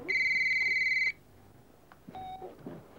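A telephone rings once with a bright electronic trill lasting about a second. A quieter tone and faint room noise follow.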